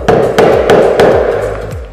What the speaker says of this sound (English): getting a larger chisel and going down the line that I've already made